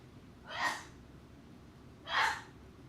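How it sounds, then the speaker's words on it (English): Two separate sneezes about a second and a half apart, each a sharp breathy burst of moderate loudness against a quiet background hum. "That was a lot of sneezing."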